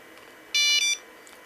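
A short electronic tone from a Nokia 5165 mobile phone, one clear burst of stacked steady tones lasting under half a second with a brief dip midway, alone over faint background hiss.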